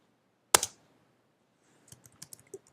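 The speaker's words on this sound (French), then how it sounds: "Vous allez taper, donc moi je vais écrire tuto image" A computer keyboard typed on during image export in an office program, starting with one sharp isolated click and then, after a pause, a short run of light, uneven keystrokes close by.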